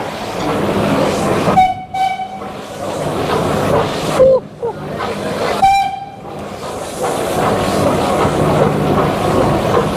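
A Nilgiri Mountain Railway train pulls out of Mettupalayam station, giving two loud, clear horn toots a few seconds apart over a continuous rumble of rolling carriages.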